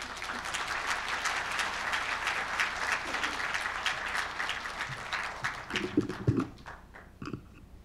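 Audience applause at a news outlet's members' night awards ceremony, steady dense clapping for about six seconds that thins out toward the end, with a few scattered louder claps and brief murmurs as it fades.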